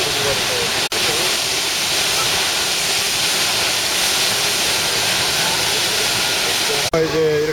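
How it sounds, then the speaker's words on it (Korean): Gibbon Falls in Yellowstone National Park sends out a loud, steady, close rushing roar that holds without a break, with people's voices faintly mixed in. "여기가 어딥니까 깁슨 폭포가 되겠습니다"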